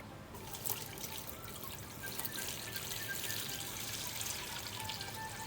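About two liters of water pour into a cooking pot for Vietnamese chicken pho, a steady, continuous splashing stream that is fairly faint and runs unbroken throughout with no talk.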